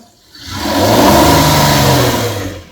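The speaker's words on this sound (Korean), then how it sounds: "조심스럽게 가속 페달을 밟아 주시는데 조금 더 세게 밟으면" A car engine revs hard under sharp acceleration, climbing from a low idle to a loud, sustained roar before easing off, close and alone with no talk.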